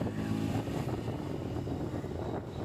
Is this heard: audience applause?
no